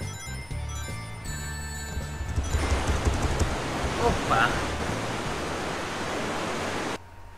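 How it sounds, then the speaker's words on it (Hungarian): A waterfall rushes in a Sonic fan game, a dense, loud roar of broadband noise that swells in after a quieter stretch of game music and then holds steady before cutting off near the end. "Picit hangos a vizesés."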